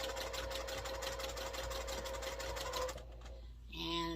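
Sewing machine stitching quilt pieces for a double star block along diagonal seam tape, a rapid steady mechanical whir for about three seconds, then it stops and quieter handling sounds follow.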